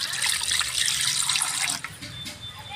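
Water pouring and splashing into a vessel at close range to wash cut fish, then easing into a lighter trickle.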